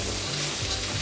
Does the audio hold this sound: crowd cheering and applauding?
no